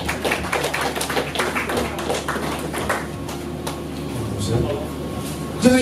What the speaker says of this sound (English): Please, a round of applause as he makes his way up